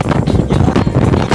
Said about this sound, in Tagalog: pero ang lakas ng hangin.